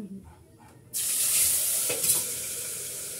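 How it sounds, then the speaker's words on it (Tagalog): After a quiet start, food hits hot oil in a pan and a loud, bright sizzle bursts up and holds steady, with a couple of brief scraping stirs partway through. "Piniprito ko na siya para bukas."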